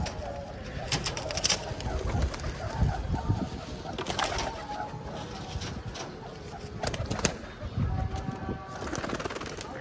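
Pet pigeons coo repeatedly in a backyard pen alongside ducks, soft throaty calls overlapping close by, with faint rustling, occasional wing flaps and other bird chirps in the background.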